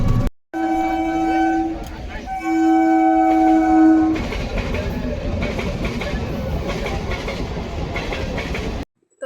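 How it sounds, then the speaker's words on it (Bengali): A train rumbles past a lowered railway level-crossing gate, opening with a sustained two-tone horn blast, then a steady loud clatter of wagons rolling by close at hand; voices are faintly audible beneath. "যাওয়ার পথে হচ্ছে রেলগেট পড়ে গিয়েছে, আর এখানে হচ্ছে ট্রেন যাচ্ছে"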